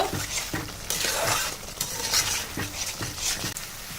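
A spoon repeatedly scrapes and stirs amra (hog plum) korma as it cooks down in thick coconut milk, making a rhythmic series of close, rasping strokes over a light sizzle, with no voices.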